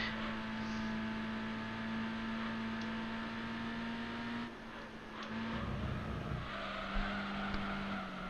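In Gran Turismo 3, an opponent's race car engine drones steadily from behind, a sustained tonal whine shifting pitch midway, under the player car's own engine noise.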